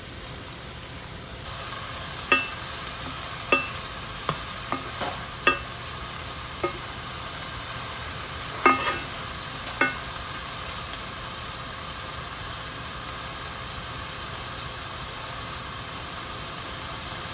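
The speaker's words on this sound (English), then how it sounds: "this is sizzling hot, so we're ready to add our mushrooms" A steady, soft sizzle of mushrooms frying in butter and oil in a hot pan, with a few light clicks and scrapes of stirring scattered over the hiss.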